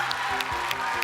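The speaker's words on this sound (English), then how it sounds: "Give them a round of applause." Audience applause at a school STEM championship finale, a short burst of dense, steady clapping filling the room with no voices over it.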